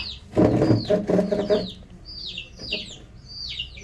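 Chickens, tied up, cluck and squawk close by in short, rising calls, with a louder burst of fowl noise early on followed by scattered clucks.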